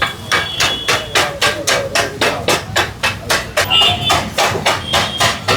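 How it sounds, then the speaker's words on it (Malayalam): Metal spatulas chop egg kothu parotta on a griddle at a Madurai night street food stall, a fast, steady run of loud, ringing clanks repeated evenly with no pause. "ഇനി കൊത്ത് മിക്സിങ് ആൻഡ് കൊത്ത് അതാണ് മുട്ട കൊത്തു പൊറോട്ട."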